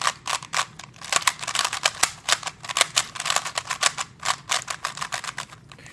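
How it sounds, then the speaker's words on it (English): Fang Shi version 2 speed cube turned rapidly by hand, a dense run of sharp scratchy clicks and clacks in quick irregular bursts, close and alone without talk. "I still pick this cube up every now and then and I play with it because it's got a really nice scratchy feel to it"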